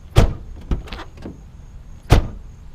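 Squeaky hood hinges on a Ford Crown Victoria creak and clunk as the hood moves, producing three short, loud knocking bursts close by with brief high squeals, spaced unevenly over a quiet background, with no talking.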